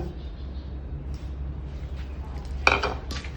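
Shrimp pounded in a stone mortar for Thai shrimp-paste chili dip gives a couple of sharp knocks near the end over a low, steady kitchen background.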